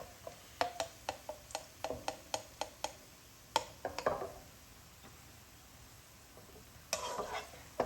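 Browned fried onions are lifted out of hot oil, a series of sharp metallic ladle taps and scrapes against the pan over a soft background sizzle, then a brief louder clatter near the end.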